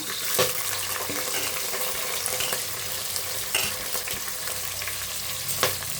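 Sliced onion and green chilies fry for chicken biryani, a steady loud sizzle with occasional scrapes and stirring knocks, and no talking.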